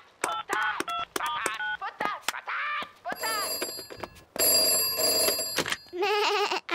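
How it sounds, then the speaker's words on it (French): A telephone rings with a bright electronic bell in a French Peppa Pig cartoon, loud and repeated in bursts, mixed with cartoon voices and sound effects. "Téléphone-lui."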